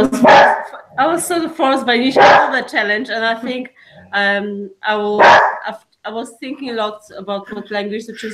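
A pet dog barks a few times close by, its yips and barks mixing with a person speaking continuously indoors.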